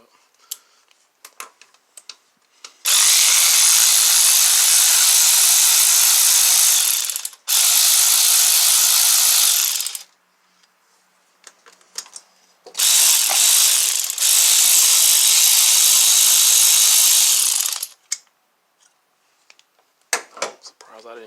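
A ratchet wrench loosens a bolt during a misfire repair on a Chevy, Buick or Pontiac engine. It makes loud, sustained clicking bursts in four long runs with short pauses between them, and faint handling noises come before and after.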